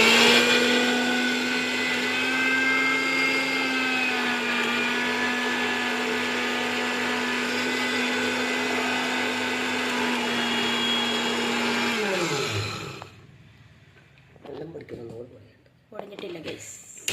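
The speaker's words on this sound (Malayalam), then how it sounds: "അടുത്തത് മിക്സിയിൽ ഇട്ടിട്ട് നന്നായി പൊടിച്ചെടുക്കുക കേട്ടോ." A kitchen mixer grinder whirs at a loud, steady pitch while grinding roasted ingredients, then winds down and stops after about twelve seconds, leaving only faint household sounds.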